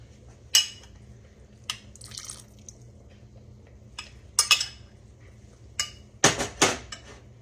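Muscadine grapes mashed to squeeze out their juice give scattered wet squishes and light clinks against a faint steady background, ending in a quick cluster of louder, closer squelches.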